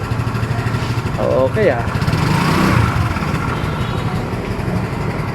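A Motorstar Easyride 150P motorcycle engine runs steadily close by, a low rumbling drone that carries on for the whole stretch while someone speaks briefly over it.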